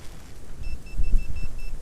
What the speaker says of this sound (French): c'est un pointeur qui sonne quand on s'approche, même sans bouger